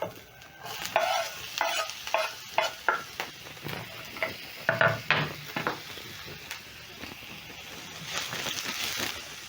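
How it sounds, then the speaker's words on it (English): Sliced onions sautéing in cooking oil in a pan, a soft steady sizzle broken by a series of rhythmic scraping stirs of a utensil against the pan. "Stir in, and then I'm going to let the onions saute until soft."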